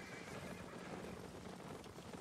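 A tier 3 horse whinnying in an online video game, a moderately loud neigh over a busy background of hoofbeats and ambient game noise, with no talk.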